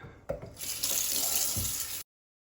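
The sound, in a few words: rinsing a geode under running tap water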